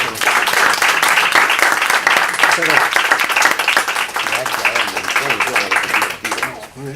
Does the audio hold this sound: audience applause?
yes